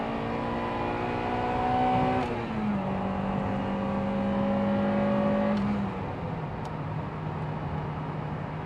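Acura Integra Type-S VTEC engine pulling while driving, a sustained buzzing engine tone that rises, drops sharply at a gear change, climbs again and shifts once more, heard from the cabin.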